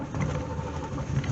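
A C4 Corvette engine, one with no speedometer and no acceleration, restarts and then settles into a steady, close-up running drone with a continuous low rumble.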